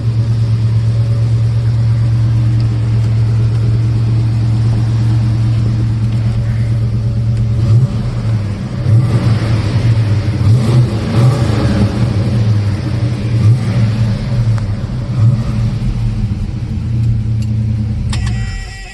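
A 1970 Plymouth Duster 340 V8 idles with a deep, steady burble, then is revved in several quick throttle blips midway before dropping back to idle, heard up close and loud with no talking.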